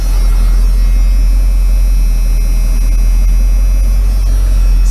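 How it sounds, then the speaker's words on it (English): An old-body-style Ford Powerstroke diesel engine idles steadily and loudly up close, its low hum and rumble continuous with slight unevenness, and no voices. "Still gotta figure out what this uneven idle is."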